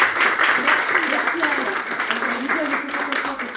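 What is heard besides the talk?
audience applause thanking Colette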